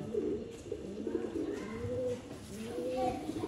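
Pigeons cooing close by in soft repeated rounds, with someone speaking over them.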